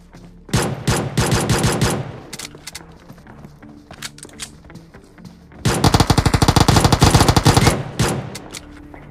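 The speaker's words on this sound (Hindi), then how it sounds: "इसलिए मैं थोड़ा फायरिंग में ढीला ढाला कर रहा था" Automatic gunfire in PUBG Mobile, loud rapid bursts of shots, one around the first two seconds and a longer sustained burst near the end, with scattered single shots between.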